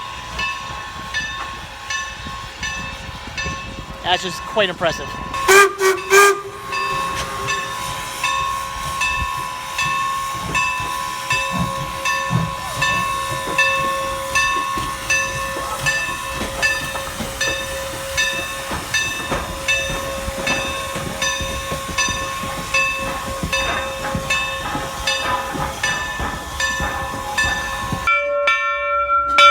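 A Strasburg Railroad train runs toward Paradise, Pennsylvania, a steam train whose bell rings and whose whistle sounds in long tones over hissing steam and rolling wheel clatter. A brief remark is spoken partway through, and the whistle cuts off abruptly at the end.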